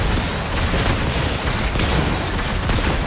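Enemy gunfire in the video game Genshin Impact, a loud, continuous barrage of rapid shots and booming impacts running without a break from start to finish.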